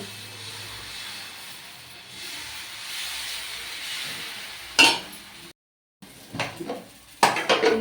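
A pot lid lifted off brinjal curry cooking on a home stove: a soft steady hiss of steam, then a sharp metallic clank of the lid, a brief pause, and further clinks and rattles of the pot up close.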